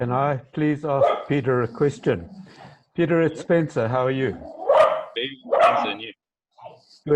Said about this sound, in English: sorry about my dogs in the background